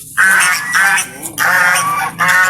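Geese on a Thai duck farm honk loudly and close by, four harsh repeated calls in quick succession.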